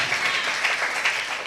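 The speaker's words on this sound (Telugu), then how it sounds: "కొట్ట చప్పట్ల." A church congregation claps together in a dense, brisk burst of hand claps filling the short moment, with no voices standing out.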